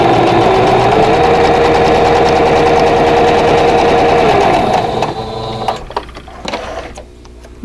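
A sewing machine stitches across the corner of a quilt block, humming steadily and close for about five seconds before slowing and stopping, followed by a few small handling clicks.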